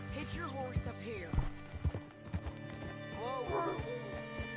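Horse hooves clop on the ground in an uneven rhythm while someone talks over them, with a brief horse snort, in the video game Red Dead Redemption 2.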